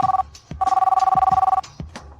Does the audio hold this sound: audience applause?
no